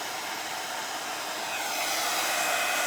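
A hair dryer blows steadily and loudly at close range, drying decoupage on a glass plate, a continuous broadband whoosh with no voices over it.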